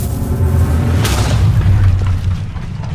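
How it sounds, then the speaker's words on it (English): A Minecraft creeper explosion bursts as a loud, close boom with a deep rumbling low end that lingers and fades over a couple of seconds. "I know that these creeper explosions hurt."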